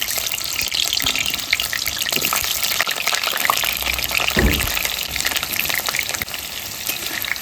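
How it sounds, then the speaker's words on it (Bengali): Potatoes fry in hot oil in a pan, giving a dense, steady sizzle with a brief louder burst midway, close up and without speech. "এবার আলুটা ভেজে নেবো।"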